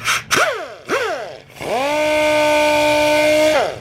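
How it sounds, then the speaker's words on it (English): A DA sander fitted with a 1000 grit pad wet sanding the fresh paint on an EK, revving up in two short bursts and then holding a steady, loud whine for about two seconds before stopping. "We now have our 1000 grit pad on a DA sander, so this is gonna make it a lot easier on us."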